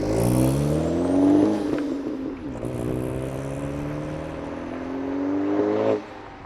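An Audi B8 with a big turbo build and AWE Touring catback exhaust drives along, its engine drone rising and falling through the gears, fairly loud and close from the cabin, then easing off abruptly near the end.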